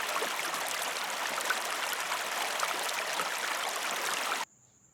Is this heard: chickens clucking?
no